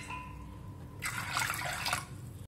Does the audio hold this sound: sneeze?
no